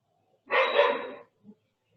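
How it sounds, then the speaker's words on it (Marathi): A single dog bark rings out in a quiet room, loud and short, followed by a couple of faint softer sounds. "कोणाच तरी कुत्र्याचा आवाज येतो"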